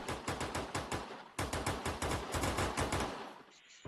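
Rapid automatic gunfire in the mobile shooter Free Fire, loud, close bursts of evenly spaced shots with a brief pause before a second long burst that fades at the end.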